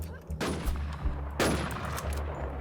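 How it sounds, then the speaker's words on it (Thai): Gunfire in the online survival shooter NewZ: two loud bursts of shots, one near the start and another around the middle, with crackling reports and tails over steady low game background noise. "มันยิงมึง มันยิงมึง"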